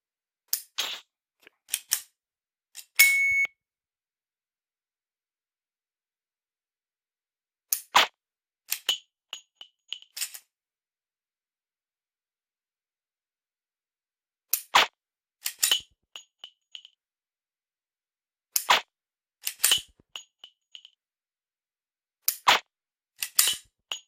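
A Smith & Wesson SD9VE pistol fitted with a laser training sight is dry-fired, giving sharp isolated metallic clicks in small clusters separated by several seconds of silence, close and crisp.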